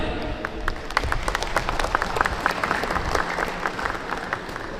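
A crowd claps loudly at an inauguration of a national technological institute in Tlahuitoltepec, Mexico, greeting a municipal president, with dense, sustained applause and a voice talking faintly underneath.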